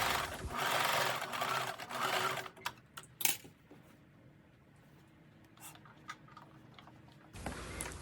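A sewing machine top-stitches a dress pocket opening, a close, rapid whirring run at the start, then scattered clicks and handling, before stitching resumes briefly at the end.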